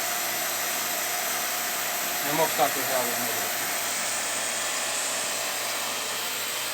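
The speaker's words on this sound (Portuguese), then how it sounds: "Fazendo vácuo aqui com a bomba de vácuo." Vacuum pump evacuating the system of a small refrigerator, a steady loud hissing drone that runs unbroken throughout, with someone briefly talking over it.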